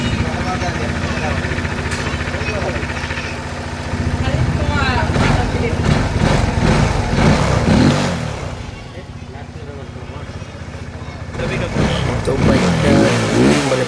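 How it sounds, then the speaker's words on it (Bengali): A Suzuki GSX-R150 motorcycle engine runs in a workshop during a performance check, idling then revving in several rising bursts with brief dips between, close and loud, while someone talks over it. "এখন আমরা বাইকটা স্টার্ট দিব"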